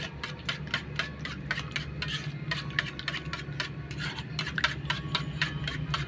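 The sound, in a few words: beating eggs for cooking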